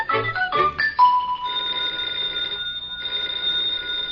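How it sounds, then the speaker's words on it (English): Telephone bell rings repeatedly in an old-time radio comedy from 1947, a bright continuous trill close and clear after a brief bit of louder jangling, with no talk over it. "the telephone's ringing."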